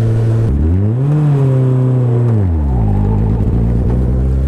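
A Sport 200 car fitted with a Hayabusa motorcycle engine revs up and holds a high, buzzing note before dropping back to a lower steady drone while driving, loud and close from inside the car.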